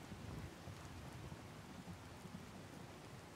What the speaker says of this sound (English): you guys shouldn't have to hear me trying to yell over the rain